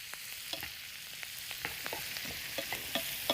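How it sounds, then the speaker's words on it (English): Vegetables, including Brussels sprouts, sauté in a pan with a soft, low sizzle broken by light scraping and clicking stirs at irregular intervals; quiet and close, no voices. "I'm just gonna kind of saute these for just a couple of minutes to soften them and get them a little bit browned up."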